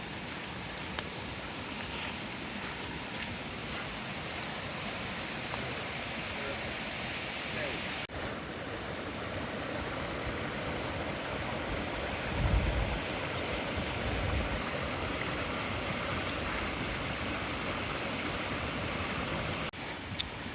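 A small creek spills over a rocky drop-off in the Sipsey Wilderness, a steady rushing wash of water that stays constant and fairly loud throughout, with a slight swell midway.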